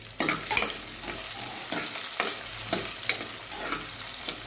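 Chopped onions fry in a pan for vegetable palav, crackling loudly and close, with quick spatula scrapes and taps repeating about twice a second over the sizzle.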